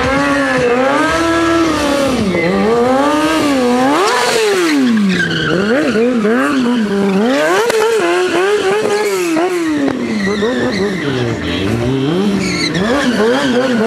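A stunt motorcycle at the Bielawa moto show revs hard and close, its engine pitch swooping up and down in continuous waves with tyre squeal mixed in, loud throughout.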